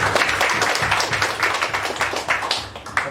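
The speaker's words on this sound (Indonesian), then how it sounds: "Tepuk tangan yang meriah buat Tuhan." A church congregation clapping during a worship service, dense rhythmic claps close and loud throughout the short stretch with no talk over them.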